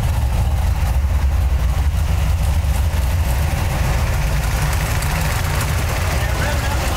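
A 1932 Ford Flathead V8 runs without mufflers and with aftermarket headers on its first start, giving a loud, steady low-pitched idle rumble that stays constant throughout.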